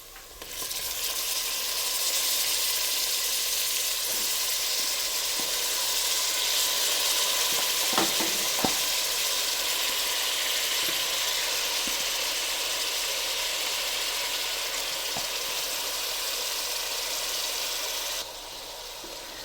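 Half a kilogram of washed mutton hits a hot pan for a Telangana-style mutton curry, setting off a loud, steady sizzle and frying hiss that holds for most of the stretch, with a few faint clinks of stirring.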